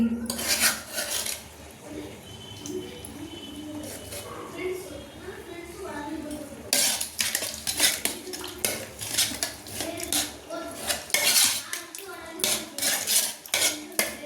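Cooked dal is mashed and stirred in a metal pot for radish sambar, with a spoon clinking and scraping against the pot in repeated close strokes beneath a voice.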